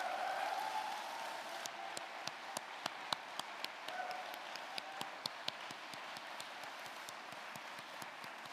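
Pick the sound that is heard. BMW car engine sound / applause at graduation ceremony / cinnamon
applause at graduation ceremony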